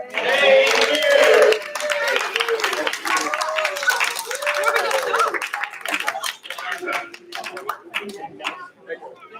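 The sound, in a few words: audience applause for the dancers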